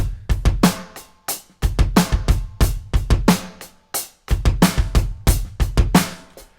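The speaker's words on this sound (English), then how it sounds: "I stole the kick pattern, and it sounds like this." Kick drum on a drum kit playing a repeating groove pattern, loud and close, with punchy low thumps in tight syncopated clusters and brief gaps between phrases, cymbal or hi-hat wash riding over the top.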